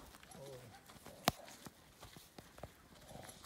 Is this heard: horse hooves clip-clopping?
yes